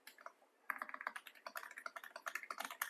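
Fast typing on a computer keyboard starts after a brief pause, a dense run of close, crisp key clicks with no talking.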